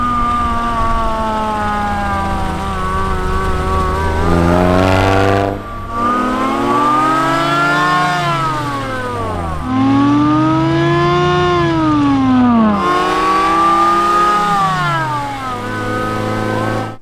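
A car engine fitted with an aftermarket Amazon supercharger revs loudly and repeatedly, its pitch climbing and falling in several long sweeps with a supercharger whine over the engine note. Nobody speaks.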